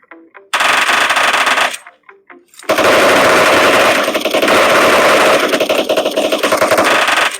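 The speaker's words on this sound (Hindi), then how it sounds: "मैंने जानबूझ के उसकी एमो जो है सारी की सारी फायर करवा दी ताकि वो रिलोड पे आ जाए" Gunfire exchange in a battle royale video game: two loud, sustained bursts of automatic fire, a short one followed by a longer one lasting several seconds, with brief single shots in the gap between them.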